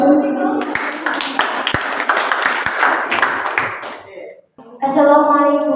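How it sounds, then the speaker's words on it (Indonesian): A classroom group gets a round of clapping from classmates, dense and steady for about four seconds before fading out, followed by a voice starting to speak. "Beri tepuk tangan untuk kelompok 1."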